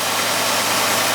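A Starfire fire engine idles steadily just after a cold start, a smooth, constant mid-pitched rumble heard close up and unbroken.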